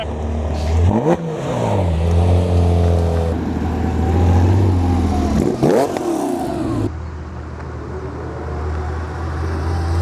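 At a large Porsche event in Australia, cars drive past loudly and close, revving hard. Two distinct pass-bys rise and fall in pitch, one near the start and one midway, over a continuous engine drone.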